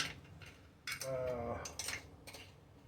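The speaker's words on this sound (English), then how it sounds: "So let me get a spoon, and we can add," A metal spoon clinks against dishes and utensils while being picked up in a kitchen before adding pure cane sugar to a strawberry pie filling, a few short bright rattles and scrapes, close and fairly quiet.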